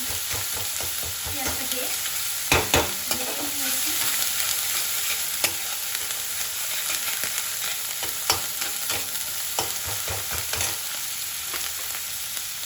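Chopped onion fries over a high flame for a tilapia kalia, giving a steady bright sizzle with scattered stirring knocks and scrapes close by, and no talk.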